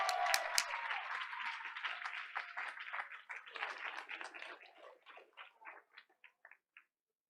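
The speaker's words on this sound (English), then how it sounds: "please give a big round of applause to our Outstanding Student Award recipient" Audience applause at a school board of education meeting greeting a sixth-grade student award winner, a dense burst of clapping that thins out and fades into scattered final claps over several seconds.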